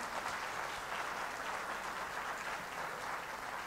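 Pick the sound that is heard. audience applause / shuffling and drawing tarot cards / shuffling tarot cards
audience applause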